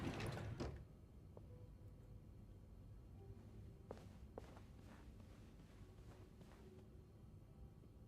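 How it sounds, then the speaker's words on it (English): A bedroom door in a horror game scene opens and closes, giving a sharp thud near the start followed by creaks and scattered soft knocks and shuffling, all quite close. "My door is so loud."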